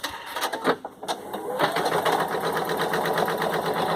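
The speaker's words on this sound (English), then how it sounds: "It is a looser satin stitch. It's not super dense because I want it to be able to sew out pretty quickly" An embroidery machine stitches a loose, fast satin stitch on an in-the-hoop fabric face mask, its needle chattering in a steady, rapid, close mechanical rhythm that runs continuously with a few brief pauses near the start.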